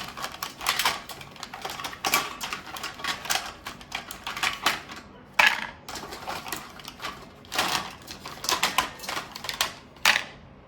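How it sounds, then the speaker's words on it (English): Rapid, crisp papery riffling bursts of a deck of cards being shuffled come in quick clusters with short gaps, close and fairly loud, with no talking. "it makes shuffling quite easy"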